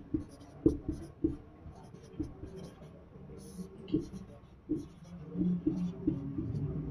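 Chalk or marker writing on a board during a Sanskrit class, giving soft irregular taps and scratches with faint murmuring in the background.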